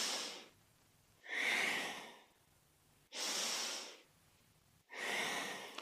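Deep breathing during a kundalini yoga kriya for stress: three long, forceful breaths, each a couple of seconds of strong rushing air, separated by quiet pauses, close and alone.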